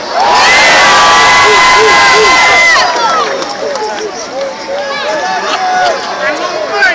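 Loud, close crowd roaring and cheering at a Philadelphia political rally with the Vice President and President, sustained shouts and whoops that ease slightly midway but keep going throughout.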